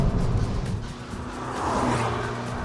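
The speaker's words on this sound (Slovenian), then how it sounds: "edina stvar, ki vas občasno razveseli, je pokanje iz izpuha pri približno 5000 vrtljajih" A 2016 Abarth 595 Turismo in Sport mode accelerates near 5000 rpm through a third-to-fourth upshift, its engine loud and close, with a brief exhaust pop or burble at the change before the revs climb again.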